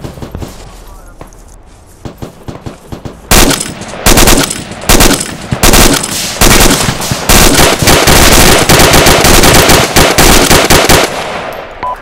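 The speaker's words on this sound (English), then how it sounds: "LMG that was firing on us is now down." Light machine gun fire in the Arma 2 Takistan insurgency game: after a quieter stretch, loud sustained automatic bursts come in at about three seconds and continue in dense rapid volleys to the end, with no talk over them.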